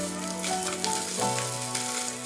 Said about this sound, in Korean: 햄을 넣고 앞뒤로 노릇하게 지져냈다.